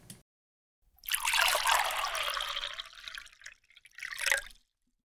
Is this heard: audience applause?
no